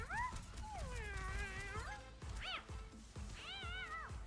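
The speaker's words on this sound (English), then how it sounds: "I love hearing the meows there." A cat meows repeatedly in the video game Overwatch, several distinct rising and falling meows of varying length heard clearly over low game background sound.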